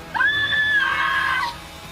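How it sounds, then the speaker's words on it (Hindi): A woman's scream echoes through a forest as a horror-story sound effect: one loud, high, sustained shriek lasting over a second that rises then trails off, heard alone with no talk. "जंगल में औरत की चीख गूंज उठी"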